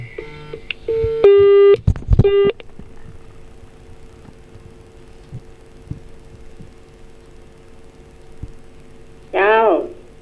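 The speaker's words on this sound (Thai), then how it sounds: "มีเสียงโทรศัพท์มาเดินเลยเนอะ" A telephone ringing during a temple livestream in Chiang Mai, with a short run of loud electronic ring tones near the start over a low background hum, followed by a brief later burst of sound.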